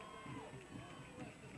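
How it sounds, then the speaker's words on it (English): A crowd cheers at a 1998 high school football game between North Penn and CB West, a broad roar with shouts mixed in, heard at a distance, fairly faint and continuous. "Crowd cheering on the Knights defense."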